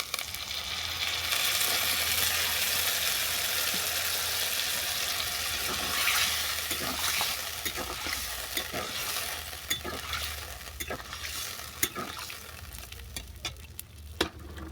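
Spice masala being stir-fried with potato and pumpkin pieces in a pan, a continuous close sizzle broken by repeated scraping and clacking of the spoon against the pan, with no talk.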